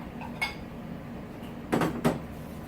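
Salad bowls are handled in a home kitchen while a garlic spaghetti meal is being prepared, giving a light knock followed by two quick clattering clinks close by, with quiet gaps between them.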